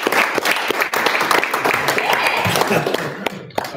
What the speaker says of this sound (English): Now you can clap for me.